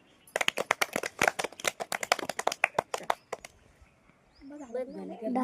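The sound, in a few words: audience clapping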